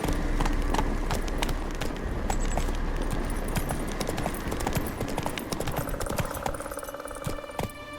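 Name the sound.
horse galloping in video game The Witcher 3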